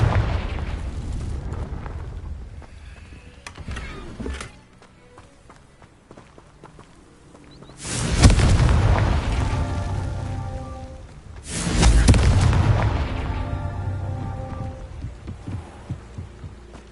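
Two booming Confringo fire-spell blasts in the Hogwarts Legacy game, among castle ruins, each a loud broadband burst with a decaying tail, about four seconds apart, over a low ambient game background.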